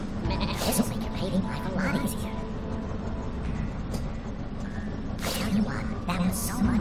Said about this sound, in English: Oh, is he getting a sheep? The classic sheep.